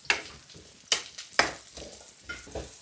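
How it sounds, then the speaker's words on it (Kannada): Raisins and cashews frying in ghee in a pan, with repeated sharp stirring scrapes and bursts of sizzle over a steady low crackle, close and fairly loud. "ಡ್ರೈ ಫ್ರೂಟ್ಸ್, ದ್ರಾಕ್ಷಿ ಗೋಡಂಬಿನ ಫ್ರೈ ಮಾಡ್ಕೊತಾ ಇದ್ದೀನಿ"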